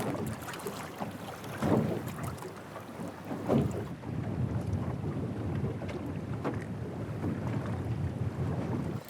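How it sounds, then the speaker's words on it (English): Wind gusts over open water during a fishing trip for channel catfish and perch from a boat, a steady broadband rush with a couple of stronger buffets early on, loud and close to the microphone. "I thought it was going to be a lot calmer, and that wind actually picked up"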